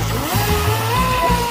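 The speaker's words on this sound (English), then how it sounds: "So let's get this bad boy cooking and see how good it could do." A Volantex Blade RC boat's electric motor whines steadily as it runs across a lake, rising and falling slightly in pitch with throttle changes over a brief stretch.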